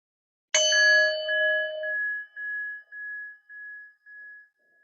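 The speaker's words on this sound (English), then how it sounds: "take in the sound of the bell," A single meditation bell struck once during a gentle yoga practice, ringing clear and close with a bright metallic tone that fades slowly in a pulsing, wavering decay over several seconds until near silence.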